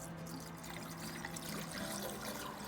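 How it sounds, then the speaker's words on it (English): RV antifreeze pours into a travel trailer sink drain, a steady faint gurgling trickle of liquid running continuously, with no talking. "Then I add antifreeze to all of the drains, the kitchen, the shower,"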